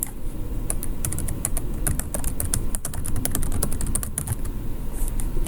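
Steady computer keyboard typing while an error reason is entered into a school data-disclosure form, with rapid continuous key clicks over a low background hum, no talking.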